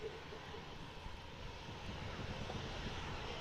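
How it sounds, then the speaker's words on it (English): A Ryanair Boeing 737-800 taxis out for departure on runway 05 left at Manchester Airport, its engines making a steady, distant low roar and hiss throughout. "Ryanair Boeing 737-800, and this aircraft taxiing out to depart on runway"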